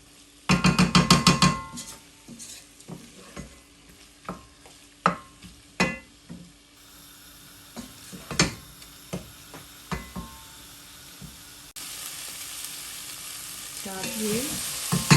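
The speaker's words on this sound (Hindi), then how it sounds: "ये 2-3 मिनट के लिए हमने फ्राई कर लिया इसको।" Masala for chicken jalfrezi frying in a pan, with a spoon stirring and scraping in sharp irregular strokes over a soft background sizzle that grows louder toward the end.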